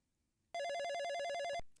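A desk telephone at a police station in the EGA game Police Quest I gives one sharp, loud electronic ring burst lasting about a second, then stops abruptly.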